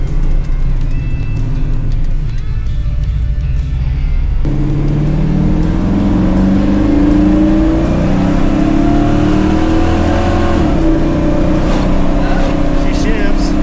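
A truck's engine runs steadily up close, then climbs in pitch as it pulls away and shifts through its gears on the road, with voices talking over the rumble.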